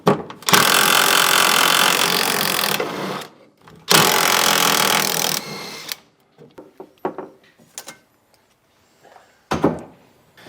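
Power drill boring pilot holes for a hardtop being fitted to a Humvee, two long loud runs of whirring drilling, the second shorter, followed by scattered knocks and handling clatter.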